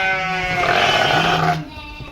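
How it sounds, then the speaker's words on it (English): Dorper sheep and lambs on a large African dairy farm let out a close, wavering bleat that lasts most of the moment, with another animal's cry overlapping near the end. "Yeah, these are the doper sheep. You can see these are calves. These are the lambs."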